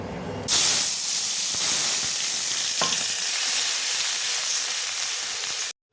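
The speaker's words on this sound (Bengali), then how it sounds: "এবার মশলাটা ভেজে নেবো।" Spice paste of cumin, ground green chilli, turmeric and coriander sizzles loudly in hot oil for an aloo chop filling, a steady bright frying hiss that starts abruptly and runs unbroken with faint stirring scrapes.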